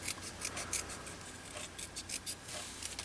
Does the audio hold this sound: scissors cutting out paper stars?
yes